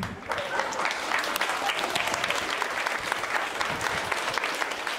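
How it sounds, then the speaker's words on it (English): Steady, dense applause from an audience at a school environmental cadets presentation, sustained and fairly loud throughout with no pauses, a broad wash of many hands clapping at once. "another round of applause"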